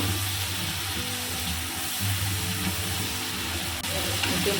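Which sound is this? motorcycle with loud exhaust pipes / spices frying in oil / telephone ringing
spices frying in oil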